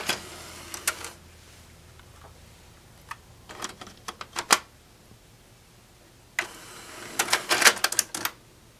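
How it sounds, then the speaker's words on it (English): The tape-loading mechanism of an Optimus DCT-2000 Digital Compact Cassette deck makes clusters of sharp mechanical clicks and clacks, bursting in short irregular groups between quiet pauses, heard close up. "Tape loading is not really very interesting or special, but let's take a look at it anyway."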